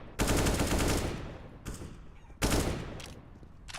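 Gunfire trading in a Counter-Strike match, two loud bursts of rapid shots separated by a brief pause, close and sharp with no voices over them.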